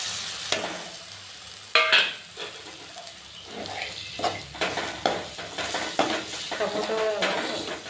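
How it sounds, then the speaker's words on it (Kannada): Mushrooms frying in a pan with curry leaves, tomato and chilli powder, with a steady sizzle under repeated stirring and scraping, plus occasional clinks of a utensil against the pan. "ಸ್ವಲ್ಪ ಫ್ರೈ ಮಾಡೋಣ."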